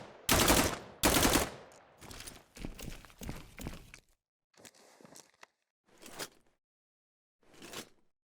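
Bursts of gunfire from weapons in a multiplayer first-person shooter game: two loud opening shots, then clusters of rapid automatic fire, followed by sparser single shots separated by short silences. No voices.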